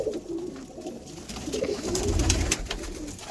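Pigeons cooing close by, a few soft, low rolling coos overlapping one another against faint background rustle.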